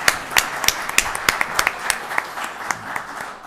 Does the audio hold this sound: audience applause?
yes